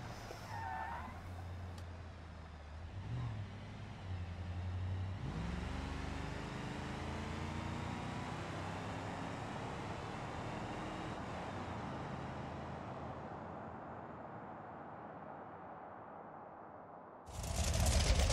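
Monster truck engines in the Monster Jam video game, a steady droning rumble that rises in pitch as revs build, fading lower near the end before a sudden loud burst.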